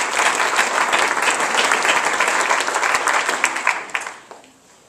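An audience at a food bank hunger action conference in Vermont breaks into loud, full applause, many hands clapping densely and steadily before it quickly fades out in the final second.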